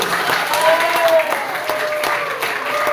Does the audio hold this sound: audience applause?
yes